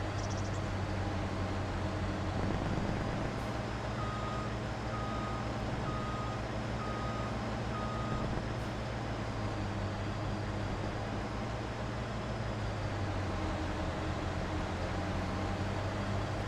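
Tractor pulling a mower in Farming Simulator 25 at steady cruise speed, a constant low engine drone with a regular electronic beep pulsing for a few seconds, uninterrupted by talk.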